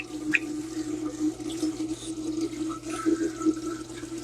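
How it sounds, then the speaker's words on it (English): Tap water running while washing hands at a kitchen sink, a steady close stream with splashing and small shifts as hands move under it. "Wash my hands."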